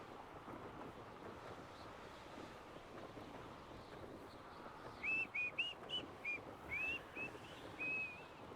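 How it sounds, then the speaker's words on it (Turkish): A person whistles a short series of clear, high, bright notes over a steady outdoor wind rush with a faint watery background, the whistle arriving in quick bursts then one longer held tone. "Ben mi ıslık çalıyordum az önce?"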